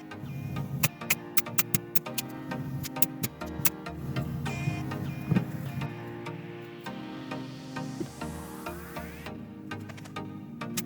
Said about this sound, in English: I'm going to use these clamps to temporarily hold it in place while I pin nail it with my pin nailer.